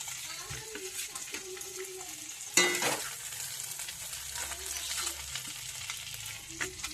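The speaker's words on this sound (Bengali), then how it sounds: "আর মাছটা আমার ভাজা হয়ে গেছে, হালকা তুলে নেব।" Small puti fish fry in oil with a soft, steady sizzle as they are lifted out of the pan, with a sharp scrape and clatter partway through and light stirring noises after.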